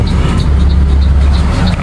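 A PO Bagong bus on the Surabaya via Malang route pulls away from its shelter with a loud, steady, low engine rumble and no talk.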